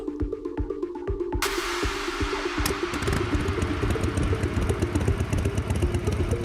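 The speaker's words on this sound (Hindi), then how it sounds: "देविका ने अपनी बाइक पार्क की और सीधा अपने घर में घुस गई" A motorcycle engine idles and revs nearby with a steady mechanical clatter as the bike is brought in to park, continuing without pause throughout.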